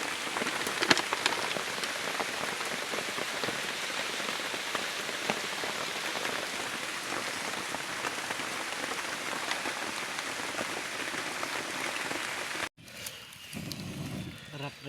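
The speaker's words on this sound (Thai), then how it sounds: "ฝนตก" Steady heavy rain pours down through the night in the forest, a dense unbroken hiss of drops close by for most of the time, cutting out abruptly near the end before a quieter patter returns.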